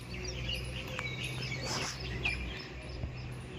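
Two sparrows perched and waiting near scattered khichdi, chirping softly in scattered short tweets over a steady outdoor background hum, fairly faint and distant.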